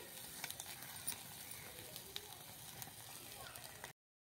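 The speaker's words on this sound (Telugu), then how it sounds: "గార్లిక్ బటర్ అది కొద్దిగా పూసుకుంటూ ఇలా కాల్చుకుంటూ ఉండాలి" Garlic butter lemon chicken sizzles and crackles in a hot pan, a steady close frying hiss with scattered pops and a few soft utensil taps.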